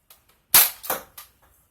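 A Dart Zone BlitzFire toy blaster fires darts in three sharp snapping pops, the first loudest, each followed by a brief rattle as it fades. The shots are close and alone, with no talk.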